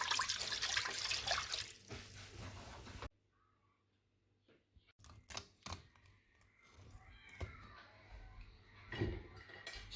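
Water splashes into a cooking pot for nkrakra pepper soup in a home kitchen, a loud rushing pour for about three seconds, then stops, followed by scattered clinks and knocks of pots and utensils.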